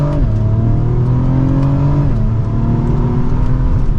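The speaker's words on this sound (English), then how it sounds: "Hopefully you can hear just how quick those shifts are." A 2025 BMW M340i in Sport Plus pulls hard through the gears, engine note rising steadily, dropping sharply at a quick upshift around the two-second mark, then climbing again, loud and close from inside the cabin.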